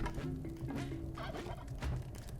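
Repeated turkey gobbles from the Spelunky 2 video game, a run of warbling calls over steady game background sound, fairly loud and close with no talking.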